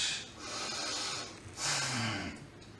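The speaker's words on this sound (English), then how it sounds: "Take a deep breath." A slow, deep breath drawn in through the nose during a seated exercise routine for seniors, an airy close inhale followed by a longer exhale, quiet with no talking.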